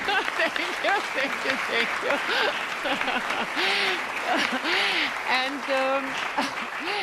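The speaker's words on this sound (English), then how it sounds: "Then I would like to thank our wonderful panelists here. Big applause." A symposium audience gives the panelists sustained applause, a broad continuous roar of clapping while several people talk and cheer over it nearby.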